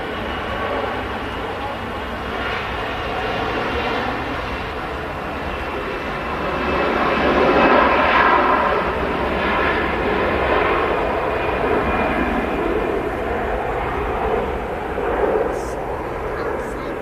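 A Jet2 Airbus A321 jet at Manchester Airport gives a loud, sustained engine roar that swells in the middle and then eases, with a person talking over it.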